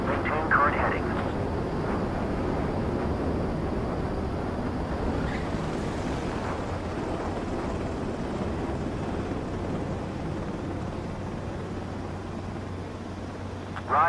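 Fighter jet landing on a runway in the flight game Ace Combat 7, a steady loud engine roar and rushing wind that holds the whole time, with radio voices talking over it.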